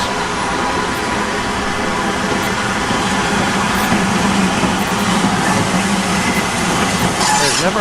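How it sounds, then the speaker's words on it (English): A U-Class steam locomotive arrives hauling a rake of restored heritage coaches, a steady loud rolling rumble with continuous wheel and mechanical noise and faint high squeals throughout. "here's the U-Class coming in again with its, this time pulling the rake of beautifully restored coaches"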